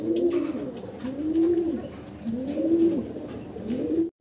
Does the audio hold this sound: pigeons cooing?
yes